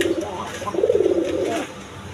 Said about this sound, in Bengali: অ্যারাবিয়ান কোকা কবুতর,